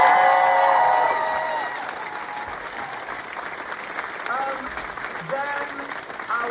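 A theatre audience gives the Moulin Rouge ensemble loud, sustained applause mixed with cheers and whoops, easing off slightly after the opening second, with voices talking over the clapping.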